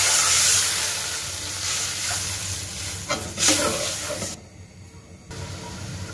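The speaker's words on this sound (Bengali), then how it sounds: "এবার দিয়ে দিচ্ছি জল" Spice paste in a pan for a mustard-paste sea fish curry hisses and sizzles loudly as water goes in, with a burst of steam midway and a brief near-silent gap before the frying noise returns.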